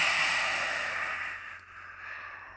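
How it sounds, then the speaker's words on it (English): Forceful open-mouthed breath out with the tongue extended, a yogic lion's breath, one long breathy rush that fades gradually over a couple of seconds, close and alone. "we stick our tongue out, and we say ha"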